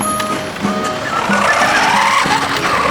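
Child's electric battery-powered ride-on toy car driving outdoors in a park, giving a steady close whirring motor drone throughout, with faint background sounds and no clear speech.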